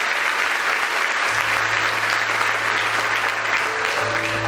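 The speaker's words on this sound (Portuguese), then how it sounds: "Você pode aplaudir Jesus?" A large church congregation claps steadily and loudly in sustained applause, with a low organ-like tone entering partway through.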